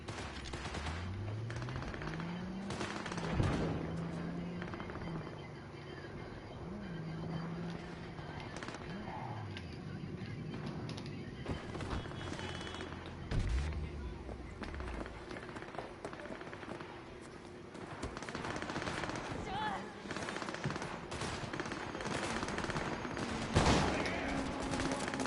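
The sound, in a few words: gunfire from a gun in the video game Cyberpunk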